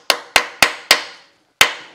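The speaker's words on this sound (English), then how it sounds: "sometimes just a smack with a hammer" A hammer smacks a stuck socket-headed cap screw in a metal workshop: five sharp, loud metallic strikes, four in quick even succession, then a pause before a final blow, each ringing briefly.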